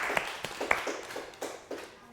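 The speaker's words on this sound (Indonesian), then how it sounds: "Tepuk tangan untuk kita semua." A classroom group gives a short round of hand clapping during a microteaching lesson, a handful of sharp, uneven claps that fade out quickly.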